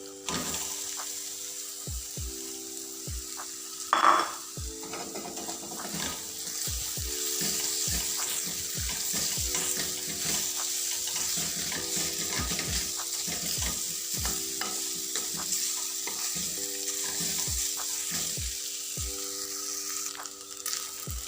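Chicken pieces fry in a pan, a constant sizzle with repeated stirring scrapes and clicks from a utensil, close and steady throughout.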